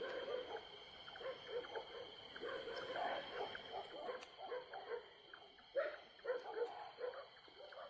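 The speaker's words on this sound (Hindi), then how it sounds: "पीछे बार्किंग डियर," Faint barking deer alarm calls ring out in a jungle as repeated short, sharp barks at a distance, with background noise and murmuring voices.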